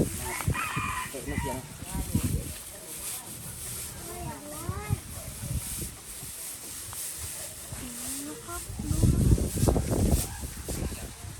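A rooster crows near a house, its drawn-out call rising and falling mid-clip, mixed with other fowl sounds and scattered background noise while people talk nearby.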